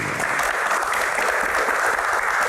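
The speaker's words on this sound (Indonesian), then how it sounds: "tepuk tangan" Studio audience applause during an Indonesian talk-show Q&A, a dense, steady wash of many hands clapping at once, loud and close, sustained evenly throughout with no voices over it.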